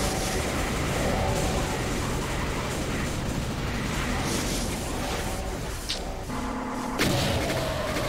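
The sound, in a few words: explosions blowing up the whole area in Doom II video game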